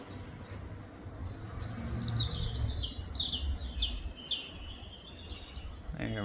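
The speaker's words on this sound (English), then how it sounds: "There's some blue tits in that tree just above you." Blue tits chirping in a tree near a bird feeder at a bird hide, a series of high thin chirps and short trills over soft outdoor background noise, fairly clear and close.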